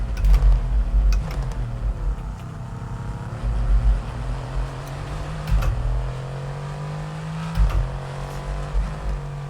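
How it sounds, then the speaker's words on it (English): An F1 race car engine in the racing game F1 23 drones steadily at high revs, rising and falling through gear shifts and throttle changes, alone with no talk. "this car seems really quiet to me"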